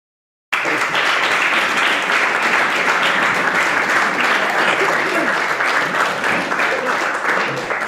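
Audience applause welcoming guitarist Dennis Hormes at a German talk show, steady dense clapping from a crowd that starts abruptly and sustains loudly throughout without fading.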